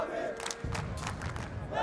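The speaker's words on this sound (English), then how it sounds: "The Navi chant continues." An esports arena crowd at a Counter-Strike major chants for Navi in rhythmic bursts, loud and reverberant, with a commentator's voice audible over it.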